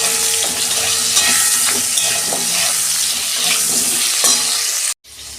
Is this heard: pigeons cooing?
no